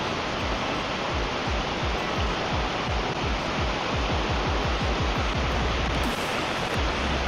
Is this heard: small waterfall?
yes